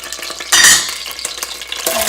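Onions sauté in hot oil for tomato soup, producing a close, busy crackle and sizzle with a brief loud hiss burst early on and steady spatula stirring.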